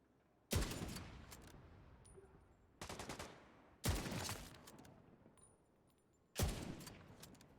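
Gunfire in The Division 2 comes in four separate loud bursts of rapid automatic shots, each cutting off sharply, with quieter gaps and faint game sounds between them.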